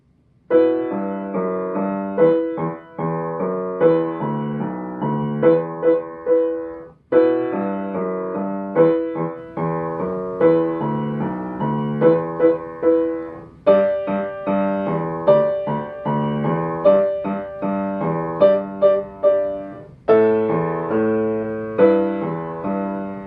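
Solo piano playing a steady melody in the low register with the left hand and repeated chords above it in the right, moderately loud and evenly paced; an arrangement of Book of Mormon Stories.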